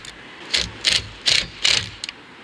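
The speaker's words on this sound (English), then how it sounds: "Now we can tighten up the first 2 screws that we put in." Four quick ratcheting bursts ring out close by as screws are tightened while fitting a VELUX roof window, followed by a brief final click.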